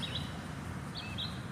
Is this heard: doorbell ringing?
no